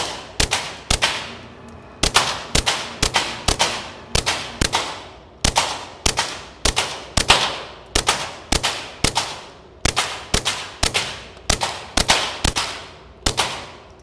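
A Glock 44 fires subsonic .22 rounds through a Huxwrx 22 Ti suppressor in rapid, evenly spaced shots, each a sharp muffled crack with a quick decay, continuing in long strings at an outdoor range; no talking.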